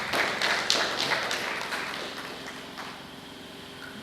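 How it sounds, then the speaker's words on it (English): An audience at an alumni teachers' workshop claps in a short burst that is fairly loud at first and then thins out and fades over a few seconds. "I think our class deserves a round of applause for that."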